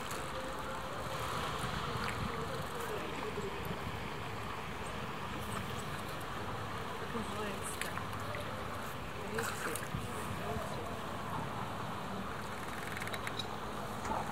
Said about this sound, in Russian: Полицейский катер куда-то снялся.